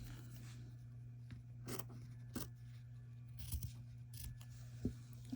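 Scissors snipping through quilt fabric at the corner of a slow-stitched wonky log cabin square, a few soft, close cuts and rustles spread over a quiet background hum.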